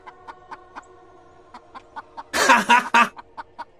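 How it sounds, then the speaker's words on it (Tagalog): A chicken clucks in short, regular bursts, breaking into a louder, squawking flurry midway before settling back to steady clucks. "dinig na dinig ko pa din ang pagputak niya"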